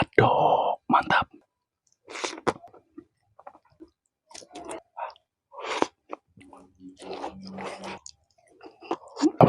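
Close chewing and biting sounds come in short bursts while balado eggs are eaten, with soft clicks and breaths between bites and brief talking at times.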